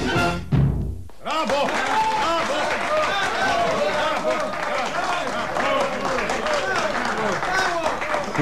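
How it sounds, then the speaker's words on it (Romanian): Storm of applause in a radio play, a loud dense crowd ovation that bursts in after a brief speaking voice and continues steadily to the end. "Furtuna de aplauze e pentru dumneavoastră, onorată și stimată doamnă."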